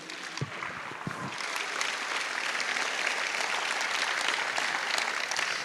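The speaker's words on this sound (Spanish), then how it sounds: "Dale un aplauso a Dios" A church congregation breaks into applause after a few isolated claps, the clapping swelling into a steady, dense wash that fills the room and holds at an even level to the end.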